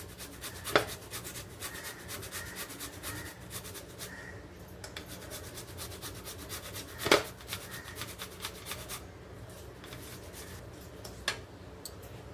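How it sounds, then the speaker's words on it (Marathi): Peeled beetroot rubbed across a fine grater, a steady close rasping scrape with repeated strokes and occasional sharper knocks. "आता याला किसणार आहे किसणीवर बारीक।"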